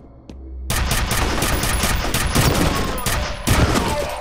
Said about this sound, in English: I saw where that last shot went.